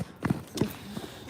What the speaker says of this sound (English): I need to hear them footsteps